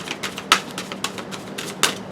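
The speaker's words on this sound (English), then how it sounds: "I know these guys are already shuffled, but I'm going to give them a little extra zhuzh" A deck of oracle cards being shuffled by hand, a rapid series of close, crisp riffling taps and snaps with a couple of sharper slaps, no talking.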